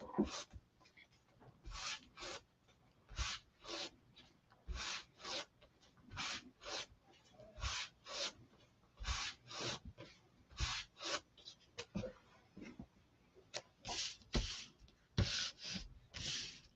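ChalkSuede paper being fuzzed by hand, a steady series of brisk rasping rubs in quick pairs, close and fairly quiet with no talk.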